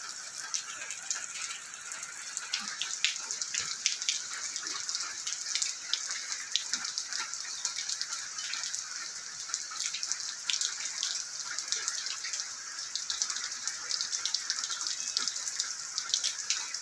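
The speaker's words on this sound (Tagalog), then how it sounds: "Pumapatak ang ulan sa bubong ng bahay." Rain drips and patters on a house roof near a garage, a dense, even scatter of small ticking drops that keeps up steadily throughout at moderate volume.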